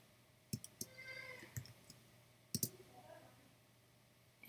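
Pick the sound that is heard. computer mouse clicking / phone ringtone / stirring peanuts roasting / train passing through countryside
computer mouse clicking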